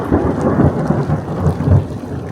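Heavy rain pours steadily during a thunderstorm over a lake, with a low continuous rumble of thunder rolling beneath the dense hiss of rainfall, no voices present.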